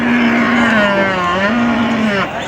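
Bullocks low loudly at a busy cattle market in Joypurhat, Bangladesh, one long, close moo with a rising and falling pitch, heard over a faint background of market noise.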